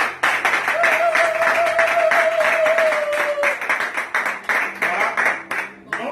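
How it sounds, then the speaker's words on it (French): A church congregation applauds during a Sunday prayer service for the nation, with steady sustained clapping from many hands that thins out toward the end, mixed with voices and a held sung tone. "Nous acclamons pour le Seigneur, pour cette parole. Acclamons encore, s'il vous plaît."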